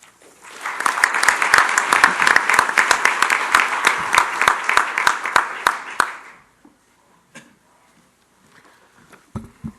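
An audience bursts into applause to welcome Judge Bill Pryor before a Rotaract Club of Birmingham talk. The loud, dense clapping lasts about six seconds, then stops abruptly and gives way to a near-silent room with faint stirring.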